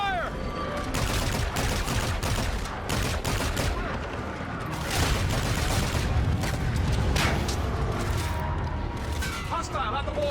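Dense gunfire from the Call of Duty video game, rapid bursts and single shots cracking close and loud throughout, with shouted voices of soldiers mixed in.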